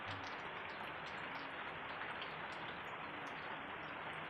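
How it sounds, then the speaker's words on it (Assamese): Steady evening rain falling outside, a constant soft wash of drops with no breaks, heard close and moderately loud without any voices. "বৰষুণৰ আৱাজটো আহিব পাৰে কিন্তু।"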